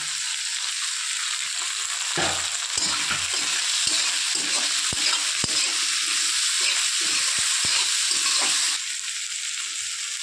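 Chopped onion, garlic paste, ginger paste and green chillies fry in hot oil for mutton kosha, giving a steady close sizzle throughout, punctuated by sharp stirring clicks and scrapes of a spatula.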